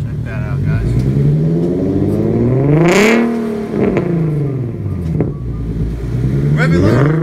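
A Nissan 370Z fitted with a Tomei catback exhaust revs loudly up and down in repeated swells close by, its deep exhaust note rising and falling, with people talking over it.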